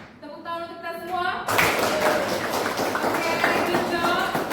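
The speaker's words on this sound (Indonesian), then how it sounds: "Tepuk tangan untuk kita semua." A class of participants bursts into hand clapping during a teacher-training session, dense, steady, fairly close applause lasting a few seconds after a brief tonal lead-in.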